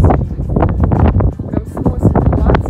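Heavy wind roars against the microphone in loud, rumbling gusts while someone talks through it.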